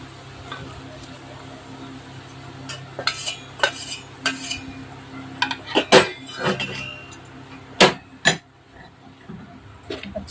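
Raw mango pickle pieces are mixed into spice masala in a large vessel, giving irregular clinks and knocks of a spoon on metal that cluster in bursts over a low steady hum.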